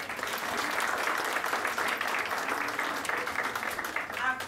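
Steady audience applause at an academic conference session during a certificate presentation, continuous and fairly even, with faint voices underneath and a slight swell near the end.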